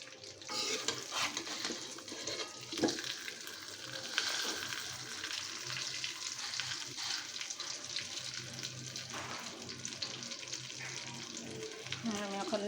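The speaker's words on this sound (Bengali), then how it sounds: "মাছটা ভাজা হয়ে গেছে, দেখেন কত সুন্দর করে ভাজা হয়েছে।" Fish fries in a pan with a moderate, uneven sizzle and crackle, with occasional clatters and handling noises over it heard up close.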